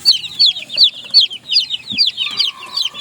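Several chickens cluck and chatter nearby in quick, overlapping bursts, with a faint low background noise underneath.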